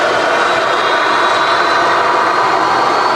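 An old Boeing 737 with CFM engines passes overhead on the departure path out of Manchester Airport. Its broad, steady jet roar stays loud and close throughout.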